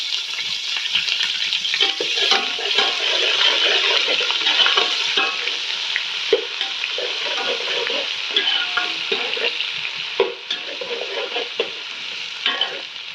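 Steady, loud sizzling of ginger, garlic and green chili paste frying with onions in a hot pan, with occasional stirring scrapes throughout; no voices.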